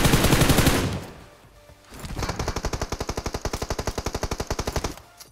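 Automatic gunfire in a battle royale shooter, an opening burst of sustained fire, a short lull, then a long steady run of rapid evenly spaced shots, loud and close with no talking.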